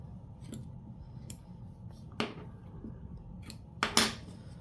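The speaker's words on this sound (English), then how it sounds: "So I kind of just lift up on the batten and then I just cut around." Scissors snip around a machine-embroidered in-the-hoop coaster as the fabric is lifted close to the stitches, giving a few sharp, separate crisp cuts spaced over a quiet room background.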